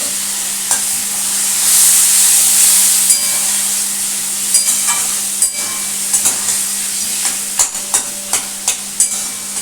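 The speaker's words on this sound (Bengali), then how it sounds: "একটু সামান্য জল দিলাম।" A small splash of water goes into a Bengali fish curry in a hot pan, setting off a loud, steady sizzle with scattered sharp pops and crackles close up.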